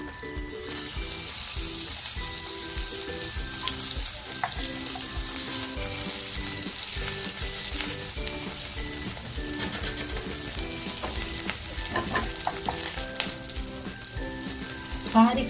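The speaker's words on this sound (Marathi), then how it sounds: "त्याची लसूण कापून घेतली होती ना ती टाकते आहे" Chopped garlic hits hot oil in a pan with green chillies already frying for a spring onion dish, giving a steady, close sizzle throughout with faint clinks of a utensil, no talking.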